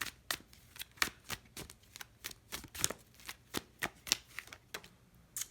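Tarot cards shuffled by hand: a quick, steady run of crisp riffling snaps, close and fairly quiet, with no voice.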